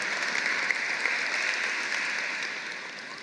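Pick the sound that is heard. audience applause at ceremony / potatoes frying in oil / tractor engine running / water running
audience applause at ceremony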